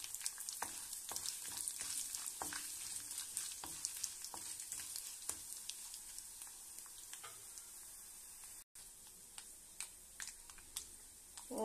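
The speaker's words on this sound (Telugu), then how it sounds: "పోపు వేగింది కదా" Garlic and dried red chillies frying for a tempering in hot oil in a pan, a steady close sizzle with frequent small crackles and light stirring ticks throughout.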